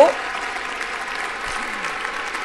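Applause during a presidential inauguration ceremony, a continuous crowd clapping texture heard at a distance, with a speaking voice over it throughout.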